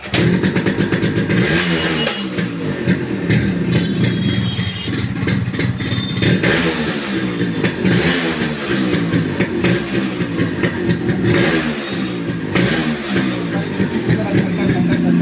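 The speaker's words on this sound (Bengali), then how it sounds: "দেখুন স্টার্টেরও প্রবলেম আছে, চোখ করে স্টার্ট করছি গাড়িটা" A motorcycle with a starting problem, started on choke, runs close and loud with a rough, pulsing idle and an uneven engine note, and a voice talks over it.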